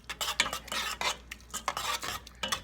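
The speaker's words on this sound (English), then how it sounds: "2 spoons of minced garlic. Then you shake it up so it starts cooking." Minced garlic shaken and cooking in a pan for Cuban picadillo, rapid scraping and rattling strokes of a utensil against the pan in quick irregular bursts, with a faint sizzle underneath.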